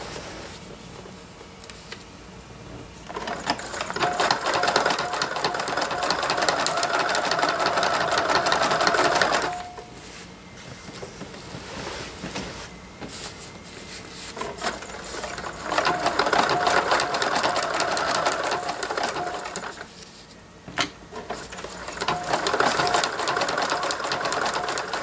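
A sewing machine runs a wide, long zigzag stitch on a velvet and lace tablecloth wall hanging, its steady mechanical whir and patter coming in long bursts with short slower pauses between.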